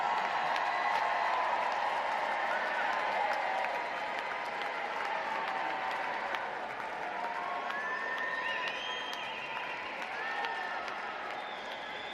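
Graduates at a university spring commencement ceremony give sustained applause to their families in the audience, a dense, steady wash of clapping from a large crowd that fills the hall for the whole stretch, with scattered cheers and whistles rising over it.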